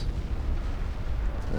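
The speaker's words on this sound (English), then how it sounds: "with all the gunfire and explosions going off." Naval battle in a strategy video game: a continuous low rumble of distant gunfire and explosions, booms blending into a steady roar with no distinct separate shots, under a quiet backdrop.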